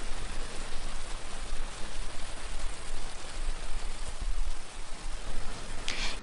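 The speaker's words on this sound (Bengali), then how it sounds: "দিয়ে দিচ্ছি হাফ চামচ জিরে গুঁড়ো দিয়ে এক মিনিট ভেজে নিচ্ছি" Ground coriander and cumin sizzle in a hot pan while being fried for masala Maggi, giving a steady, hissing crackle like light rain that holds at a fairly even level with no talking.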